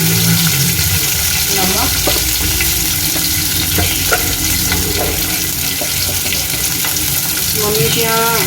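Vegetables for fried rice sizzle and fry in a hot pan, a steady close crackle with occasional stirring clinks, while someone speaks briefly over it.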